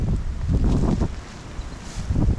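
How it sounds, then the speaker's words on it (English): Strong wind roars and buffets through thick woods, a loud continuous rushing that swells and eases in gusts, with heavy low rumble from wind on the microphone. "the wind is getting pretty bad at this point"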